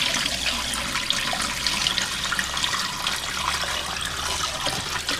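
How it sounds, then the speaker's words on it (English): Water poured slowly through an aquarium net into a tub while preparing joker bait: a soft continuous trickle and splash, fairly quiet and steady, no voices. "we're just going to get our joker and slowly start pouring the water into the net"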